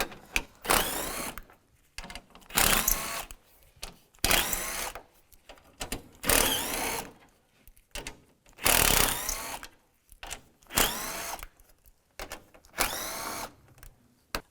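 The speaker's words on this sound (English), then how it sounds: "Use a 10mm socket, take this bolt out and all these bolts out." A power driver spins out 10mm bolts on a 2010-2016 Cadillac SRX during A/C condenser removal, in about ten loud whirring bursts separated by short pauses, close up, with no voices.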